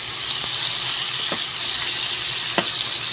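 Ampalaya fries in a pan with a steady, close sizzle and hiss, broken by a few sharp pops and crackles.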